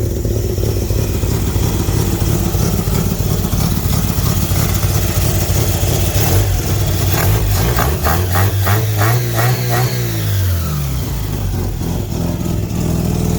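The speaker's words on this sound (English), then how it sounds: "Engine's cold right now. Let me see how she revs." A 1994 Mazda Miata with a swapped-in 13B rotary engine revs while cold. It idles loudly, then climbs through several sharp, rising-and-falling revs before settling back, with no talking.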